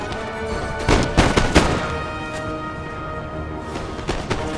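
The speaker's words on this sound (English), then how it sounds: "Oh, nice volley right over here." Fusiliers fire a musket volley in a Napoleon: Total War multiplayer battle near the Pyramids. Crackling shots and sharp bursts ring out over a continuous rumbling battlefield din, with the loudest reports clustered early on.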